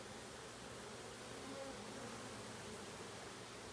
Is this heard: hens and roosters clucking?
no